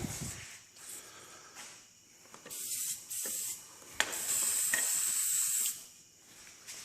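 Aerosol adhesion promoter sprayed in short hissing bursts onto a plastic trim part from a 1991 BMW E34 M5 under refinishing, with a longer steady spray near the end, close and fairly loud, no talking.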